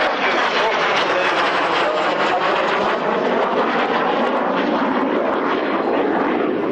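A display aircraft at an air show roars loudly overhead throughout a manoeuvre, a dense, steady engine and airflow rush that holds without break and fades slightly toward the end.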